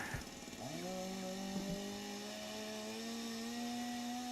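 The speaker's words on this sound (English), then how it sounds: "Dude, there's a chainsaw in the background right now." A chainsaw drones steadily in the background, its engine pitch rising sharply at first and then holding a sustained buzzing whine, moderately distant and continuous throughout.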